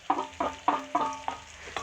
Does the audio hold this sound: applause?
no